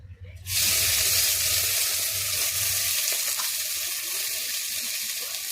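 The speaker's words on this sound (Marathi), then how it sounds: "तेल गरम झालं की मी भाजीला फोडणी देणार आहे" Spices tempering in hot oil for a cucumber curry, with a loud, steady sizzle that bursts in suddenly and hisses on without a break.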